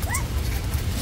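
Dogs whimpering and yipping outdoors in Vietnam, reportedly with stomach aches, short high whines rising over a steady low rumble of background noise.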